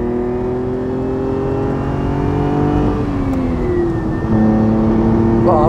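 A 1973 Ferrari 246 GT Dino with a five-speed gearbox pulls hard while driving, its engine note climbing through the revs in a loud, close, continuous drone with a brief shift partway through.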